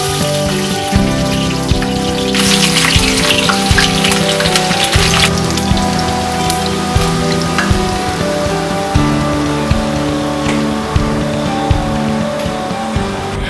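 Onion hits hot oil for a Cameroonian ndolé dish, sending up a loud, continuous crackling sizzle with sharp pops scattered throughout.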